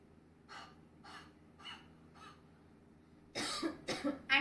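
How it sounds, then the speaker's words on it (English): Four soft, evenly spaced breathy huffs are followed by a louder burst of deliberate coughs to clear secretions during a breathing exercise for Covid patients, close and quiet overall. "then try to cough and remove the secretion out by doing this like this."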